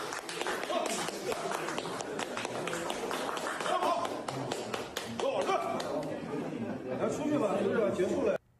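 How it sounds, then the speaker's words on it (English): Scattered clapping and tapping inside a barbershop, busy and uneven, mixed with crowd chatter and people talking throughout during a street protest in China. "And now there are people in there clapping."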